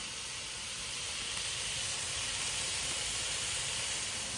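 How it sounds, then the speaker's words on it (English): Pork riblets sear and sizzle loudly and steadily in a hot pot, a constant hissing spitter with no pauses or voices. "I'm searing the pork riblets right now, and it is sizzling."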